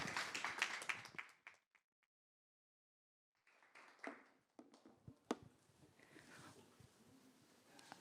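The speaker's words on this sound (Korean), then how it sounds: "여러분 따뜻한 박수 부탁드립니다." A conference audience claps briefly, then falls silent; after a pause the clapping resumes more scattered along with shuffling and background noise.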